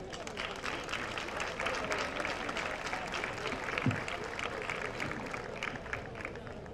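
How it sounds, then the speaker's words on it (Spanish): Dense, even applause from an audience at a 2022 ceremony honoring elderly people, a continuous crackle of many hands clapping at a fairly soft, distant level throughout. "un fuerte aplauso"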